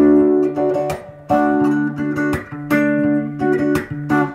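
Guitar chords from "My Everything" by Victor J Sefo strummed in a steady rhythm without muting, each ringing on and blending into the next, loud and close with no talking.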